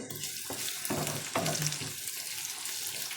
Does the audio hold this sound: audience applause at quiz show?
no